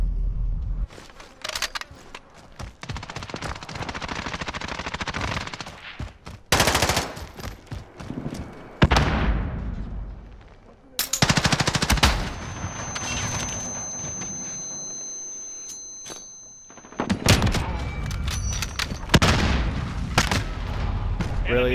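Rapid automatic gunfire and bursts of shots in Call of Duty: Modern Warfare, loud and repeated in several volleys with brief pauses between them, with voices talking over parts of the action.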